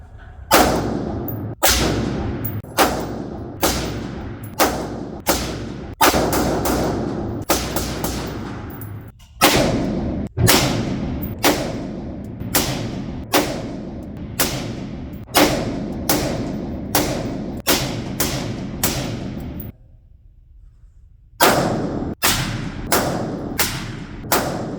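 5.56 rifle fired in a steady series of sharp, loud shots on an outdoor range, alternating between HUXWRX suppressed and unsuppressed, each crack followed by a quick decay, with one longer pause late in the sequence.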